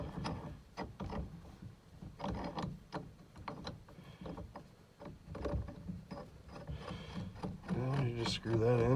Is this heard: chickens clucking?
no